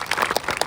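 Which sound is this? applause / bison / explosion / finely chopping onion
applause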